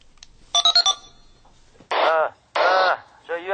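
A walkie-talkie rings in a radio drama, giving a quick burst of electronic trilling beeps followed by a few louder buzzing, crackly radio tones, with quiet gaps between.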